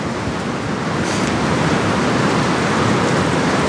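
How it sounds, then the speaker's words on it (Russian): Storm surf pounding and splashing on the shore, a loud unbroken roar of waves and spray with a brief brighter crash partway through, close and steady throughout. "при относительно не сильном шторме брызги очень эффектные"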